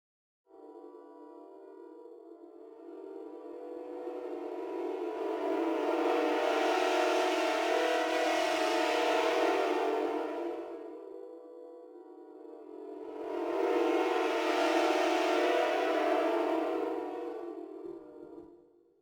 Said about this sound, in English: So we'll click our low dynamic first, which will be lip bends, and then we'll crossfade into flutter bends.